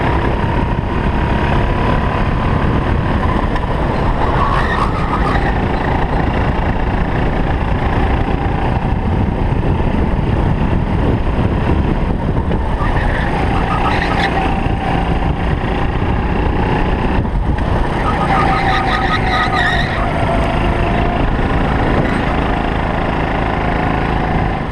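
Rental go-kart engines on a karting track, a steady loud buzzing drone throughout with small rises and falls in pitch as the karts accelerate and lift, no speech.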